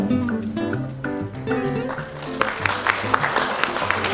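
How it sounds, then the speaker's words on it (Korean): Audience applause at the 2013 Proud Textile and Fashion Person Award ceremony breaks out about halfway through, a broad steady patter of many hands that follows tonal music and keeps going to the end. "박수 부탁드리겠습니다."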